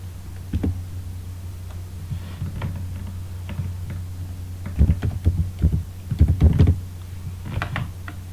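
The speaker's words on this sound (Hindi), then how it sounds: "यहाँ पे मैं टाइप करता हूं कंप्यूटर सीपीयू" Typing on a computer keyboard: scattered soft key clicks at first, then quicker bursts of keystrokes, close by over a low steady hum.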